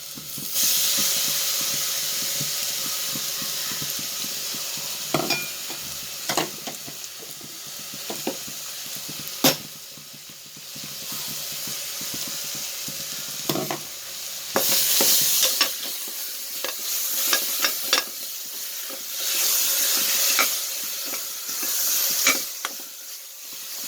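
A wooden spoon stirs country chicken curry with ground coriander in a pot, giving repeated scraping clicks and soft knocks over a steady sizzling hiss. The strokes come irregularly and sound close and moderately loud.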